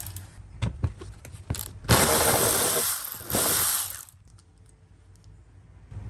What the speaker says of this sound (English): you can see the 10 millimeter bolt he's going to remove next